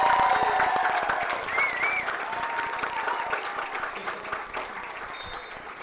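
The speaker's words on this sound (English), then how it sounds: "let's give it up for our Stinger cheer girls" Crowd at a 2024 WIAA high school football game, Edgar at Rosholt, applauds the Stinger cheer girls: steady, fairly distant clapping and light cheering that slowly tapers off, with no talk over it.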